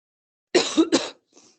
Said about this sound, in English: I'll stop coughing now.